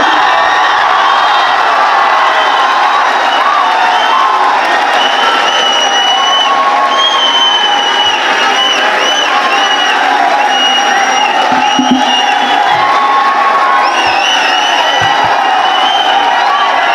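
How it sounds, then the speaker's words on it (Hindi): A large crowd at a poetry gathering at BHU applauds and cheers loudly and continuously, with whoops and shouts rising over the steady wall of clapping. "जोरदार तालियां साथियों, जोरदार तालियां"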